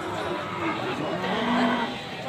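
Cattle at the Kragan cattle market in Kembang, Central Java, Indonesia, with a few low moos rising over a busy background of crowd noise and chatter.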